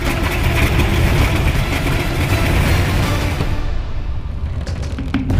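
A 1,000 hp nine-cylinder radial engine on an Antonov AN-2 biplane drones loudly and steadily with a deep rumble, its tone easing slightly toward the end.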